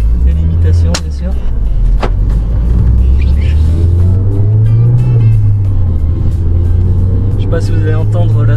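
A Renault Clio 3 RS engine on the road, a loud steady drone inside the cabin that climbs in pitch toward the middle and eases back, with a voice speaking over it now and then.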